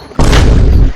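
A balloon bursts during a party game contest, a single sharp, loud bang that cuts in suddenly and leaves a broad, lingering burst of noise.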